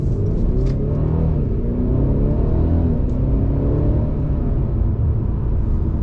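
A 2020 Mercedes-Benz C300 with a dual-clutch transmission accelerates through several gears, giving a steady, loud engine rumble and whir heard from inside the car without any talking.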